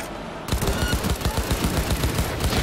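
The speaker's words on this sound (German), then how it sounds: "Boah, den schieße ich gleich in den Kopf." Rapid gunfire from Cyberpunk 2077 bursts in after a brief quiet lead-in, a dense run of loud repeated shots with a steady automatic rhythm carrying to the end.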